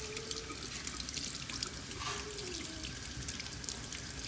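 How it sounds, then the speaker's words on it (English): Cilantro being rinsed under a running kitchen tap, a steady soft stream of water splashing and dripping into a sink, continuous and close with no talking. "Okay, so I just get my cilantro. And give it a good wash."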